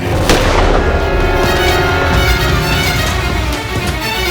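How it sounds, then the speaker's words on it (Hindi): Gunfire crackles in a dense, loud burst of sharp overlapping booms that continues without a break, with no voices. "इसके जाने के थोड़ी देर बाद ही गोली चलने की आवाज आई"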